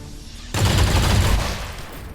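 A sudden burst of gunfire in XCOM 2 Long War of the Chosen erupts from a quiet background, staying loud and dense for about a second before tapering off.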